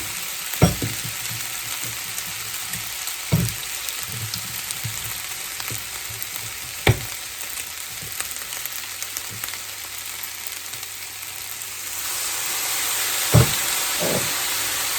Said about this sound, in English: Give it a toss.